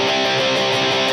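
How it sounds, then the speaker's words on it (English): A single electric guitar chord is struck with a down-pick, a dense, sustained, loud chord ringing on its own for about a second. "So when it comes to down picking, there is a difference between let's do like a chord."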